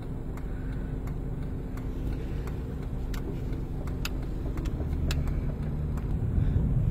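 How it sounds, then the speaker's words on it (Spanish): Street traffic rumbles past steadily on a road, with engines humming and growing louder toward the end as vehicles pass close by, heard with no talking. "así está el tráfico por acá"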